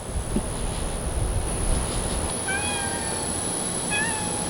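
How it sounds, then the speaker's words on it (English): A feral cat meows a few times outdoors, short rising cries coming in the second half over a steady windy background hiss. "we're trying to explain to them feral cats, they're like wild cats"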